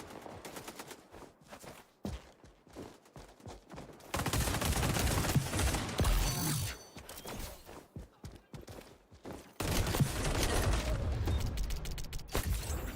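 Automatic weapons fire in XDefiant rattles in rapid bursts, sparse clicks and shots at first, then two long sustained volleys of loud, dense gunfire with mechanical clatter between them.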